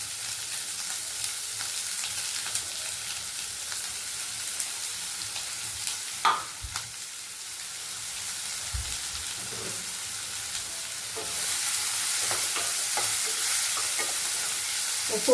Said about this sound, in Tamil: வெங்காயம், பச்சை மிளகாய், தக்காளி 3மே போட்டு வதக்கணும்